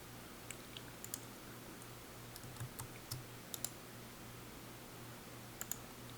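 A handful of faint, sparse computer key taps and mouse clicks scattered over a quiet background hum.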